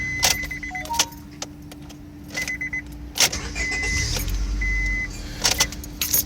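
A 2005 Honda Civic EX with a suspect starter gets several short attempts, keys rattling and dash chimes sounding, and a low starter whir grinds briefly near the end.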